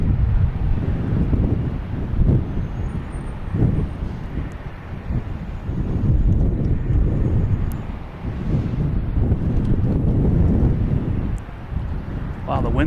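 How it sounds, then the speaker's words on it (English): Strong gusty wind roaring across a microphone at Boston Logan Airport, a continuous low rumbling buffet that swells and eases with no break. "Wow, the wind's really picking up all of a sudden."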